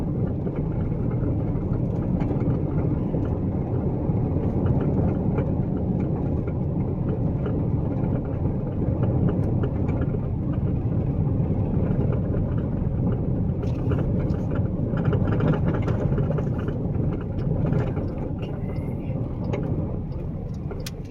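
A car rolls along a rough gravel road in a small town, giving a steady, unbroken low rumble of tires and engine that lasts throughout, with faint voices inside the vehicle.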